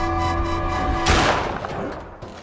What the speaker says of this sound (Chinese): 话不多说，直接拔枪爆头。